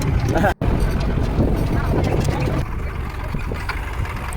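A tractor engine runs steadily during a farm ride out to a potato field, a dense low rumble under nearly continuous talk, with one brief dropout and a slightly quieter stretch toward the end.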